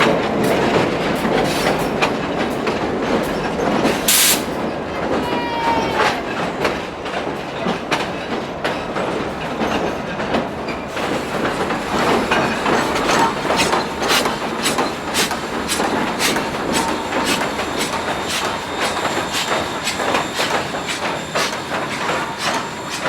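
Southern Railway 154 rolls past with its diesel leading, steady wheel rumble and rhythmic clickety-clack of passing cars over a bridge, loud and close, with a brief squeal early on.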